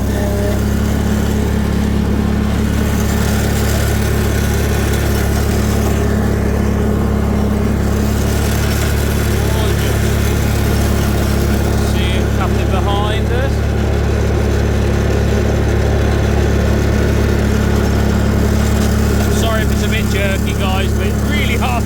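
Bolens 1668 Hydro garden tractor runs steadily with its mower deck engaged, a continuous close engine drone and low hum throughout, with people talking over it.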